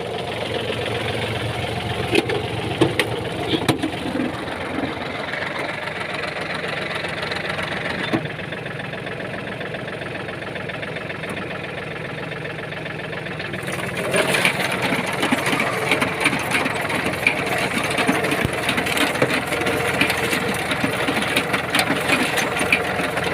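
A corn seed planter machine runs in a field, its engine giving a steady mechanical drone with rattling and clicking from the working parts; it quiets somewhat partway through, then swells louder again. No voices are heard.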